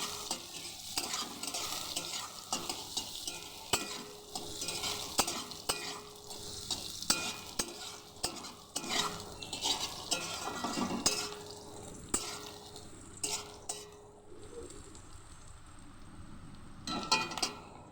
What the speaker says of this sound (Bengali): পেঁয়াজগুলোকে একটু লাল লাল করে ভেজে